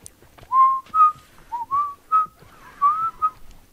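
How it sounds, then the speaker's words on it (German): Whistling by a character in the video game The Last of Us: a string of short, wavering whistled notes in bursts with brief gaps, fairly clear over a quiet background. "Ich versuche pfeifen zu lernen."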